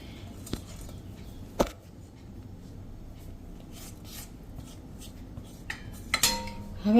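Cooked sambharo spooned from a pan into a vessel, a few sharp metal utensil clinks and scrapes spaced apart over a quiet kitchen background.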